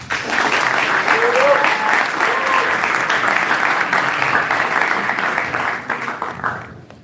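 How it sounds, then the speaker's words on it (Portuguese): Audience at a Christian plenary session applauding a speaker, a full continuous round of clapping that holds steady, then thins and fades out near the end, with faint voices underneath. "uma salva de palmas"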